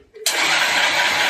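A vehicle engine cold started after sitting unused for a year, a brief faint crank then an abrupt loud catch into a steady, close, rough idle.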